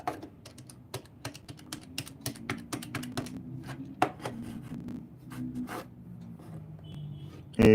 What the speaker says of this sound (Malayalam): ഞാൻ ഒരു കാൽക്കുലേറ്ററിലൂടെ ടൈപ്പ് ചെയ്ത് വയ്ക്കാം